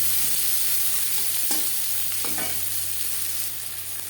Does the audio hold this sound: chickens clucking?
no